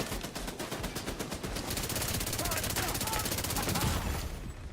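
Sustained rapid automatic gunfire aimed at an enemy turret in The Division 2, loud and continuous bursts of rattling shots with dense game combat noise throughout.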